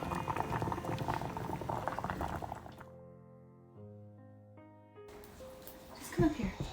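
Canning jar lids boil in a pot of water for green bean water bath canning, a close bubbling rumble briefly interrupted by a sustained tonal hum before the churning returns.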